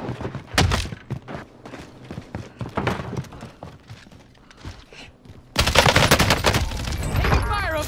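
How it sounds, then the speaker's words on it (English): Gunfire in Call of Duty Warzone: sharp bursts of shots and rapid firing, sparse at first, then a dense, loud barrage of sustained automatic fire mixed with game effects. "Stop shooting at me!"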